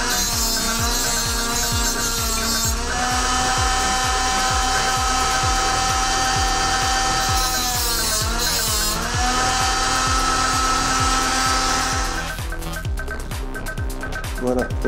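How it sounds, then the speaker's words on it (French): A power tool resharpens the toothed blade of a multi-purpose spatula, producing a loud, continuous whining grind with rapid rhythmic chatter that changes pitch as pressure shifts, while someone talks over it. "on va juste la réaffûter de manière à lui donner une pointe"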